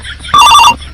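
A telephone bell rings loudly and close in a home, one short, bright burst of ringing that starts abruptly and cuts off under a second, with quiet room noise before and after.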